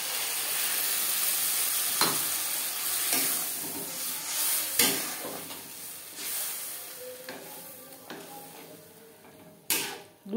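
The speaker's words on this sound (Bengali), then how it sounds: "দিয়ে দেবো মশলা ধোয়া জল" Spice-washing water poured into sizzling masala with mashed tomato in a pan for a silver carp and potato curry, a steady soft hiss with occasional clinks and stirring scrapes.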